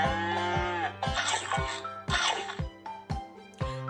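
Human voice imitating a cow mooing while reading a farm animal book aloud to children, a drawn-out low lowing call repeated in a few pulses, near and loud.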